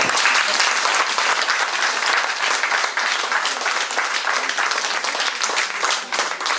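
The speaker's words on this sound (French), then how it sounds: "Je pense qu'on peut l'applaudir très très fort" An audience at an evening talk about an artist applauds, a dense, steady wash of many hands clapping loudly and continuously without a break.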